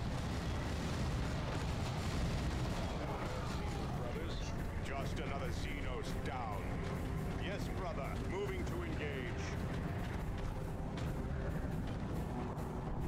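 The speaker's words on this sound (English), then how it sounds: "like four times the fucking grenade launchers or rocket launchers" Grenade or rocket launcher fire in the Dawn of War 2 strategy game, with the Wrath of the Blood Ravens mod: a dense, continuous rumble of blasts and booms amid constant battle noise, loud throughout, with game voices mixed in.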